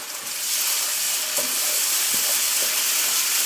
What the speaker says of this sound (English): tablespoons of ginger garlic paste and fry.